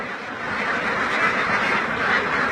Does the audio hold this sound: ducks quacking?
yes